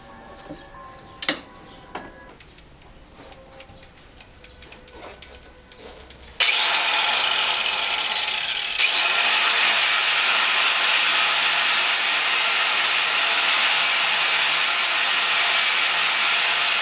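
A grinder starts up and bears on a motorcycle chain rivet after a few quiet clicks and handling noises, then holds a loud, steady, hissing whine that continues to the end.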